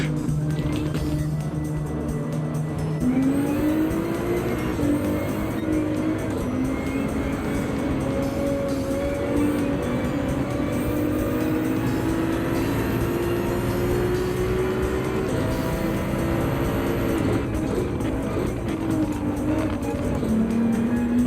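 Race car engine in Gran Turismo 7 on a rain-soaked Dragon Trail Gardens track, droning steadily with rising and falling harmonic pitch as the throttle is fed in gently, constant and loud throughout with water hiss beneath.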